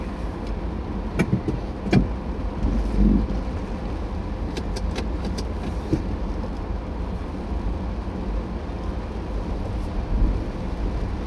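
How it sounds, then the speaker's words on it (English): A car passes through water on a flooded UK road, heard from inside a vehicle as a low rumbling wash with a few sharp knocks and splashes over steady engine and road noise. "there's a river running down this road and a car's just gone through it"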